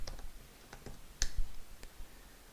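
A command is typed on a computer keyboard, a handful of soft, irregular key clicks close by, with one sharper tap in the middle, over a faint background hiss.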